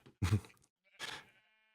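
Two short bleats from a Minecraft sheep, the first louder and slightly buzzy, the second softer after a brief pause, close and clear with nothing else around them.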